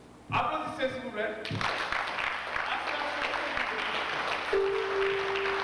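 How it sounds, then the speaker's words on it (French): At a missionary service inauguration, a voice speaks briefly before an audience breaks into sustained applause that carries on steadily to the end, with some voices beneath it. "Applaudissez s'il vous plaît."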